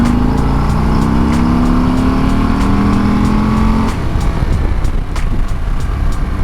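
A Harley-Davidson cruiser motorcycle on its stock exhaust revs hard and loud close by, the engine note rising steadily for a few seconds and then dropping into a rumbling, uneven idle.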